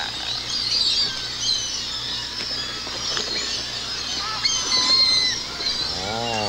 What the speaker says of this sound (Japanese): これは猿ではありません。 鳥です。